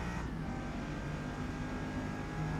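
Bugatti Veyron in R class racing at Le Mans in Forza Motorsport, a steady loud engine drone held at high revs throughout, dense and continuous with no talking.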